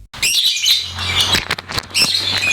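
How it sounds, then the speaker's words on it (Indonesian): Male lovebird chirping in a colony setting with separate cages, a dense run of bright, rapid tweets and squawks, close and loud, with several bursts over a couple of seconds and no talking. "cara saya penggacoran lovebird jantan"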